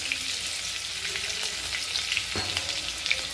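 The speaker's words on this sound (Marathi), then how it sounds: "हिरवी मिरची व्यवस्थित तळून घ्यायची, तळण्यासारखी झाली पाहिजे" Green chilies fry in hot oil in a kadai, a steady close hiss and sizzle with occasional small pops and crackles, no voices.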